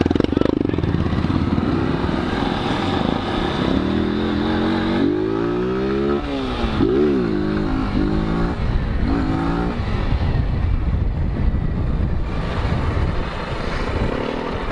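Honda Fan 160 motorcycle engine revving loudly close by, with repeated rising and falling throttle blips over a constant rumble, while people talk over it.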